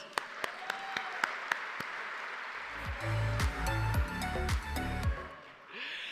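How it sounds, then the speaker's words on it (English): A graduation-night audience applauds, with a few sharp individual claps and then a broader wash of clapping that runs beneath music. "Give him a big round of applause."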